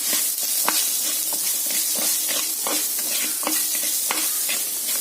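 Mango curry with salt and turmeric sizzles in a pan, with a steady frying hiss broken by repeated scraping strokes of a spoon stirring the pieces, close and fairly loud.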